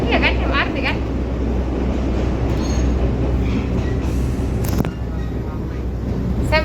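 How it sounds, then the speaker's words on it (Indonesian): Loud, steady rumble inside a moving MRT metro car in Taiwan, with wheel squeal, rhythmic clicks over rail joints, and voices talking under the noise. "Kayak gini suasana di dalam kereta."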